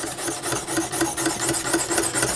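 A Lansky sharpening system hone strokes along a blade bevel in a steady rhythm of close, gritty rasping rubs, each pass repeating evenly with no voices.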